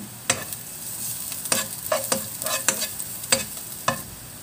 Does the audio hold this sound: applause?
no